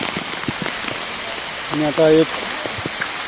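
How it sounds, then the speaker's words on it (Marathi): Steady rain falls on the uphill path to Kankeshwar temple near Alibag, an even, close hiss of drops on the ground. Someone speaks briefly over it. "पाऊस अजून काही कमी झाला नाही मित्रांनो, बघू शकता इकडं"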